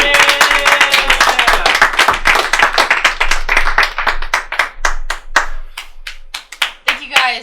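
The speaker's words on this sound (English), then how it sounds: "Give a round of applause for Sophia Smarendescu" Audience applause for a comedian at a live comedy show recorded for radio, starting as a dense burst of clapping and thinning into scattered individual claps near the end, with some voices mixed in.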